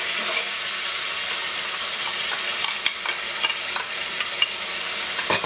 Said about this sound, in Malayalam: ഇതിലോട്ട് നമ്മൾ ഈ അരച്ച് വെച്ചിരിക്കുന്ന നമ്മളുടെ ടൊമാറ്റോ പേസ്റ്റ് ഇട്ട് കൊടുക്കുക.